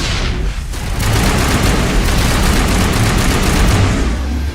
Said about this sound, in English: Oh, Lord, there's grenades.